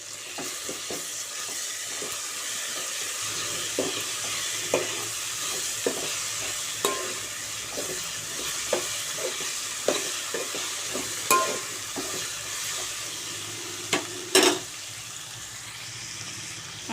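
Ginger garlic paste frying in a pan for Bambino upma, a continuous close sizzle broken by repeated spoon stirs and scrapes in an uneven rhythm, no talk.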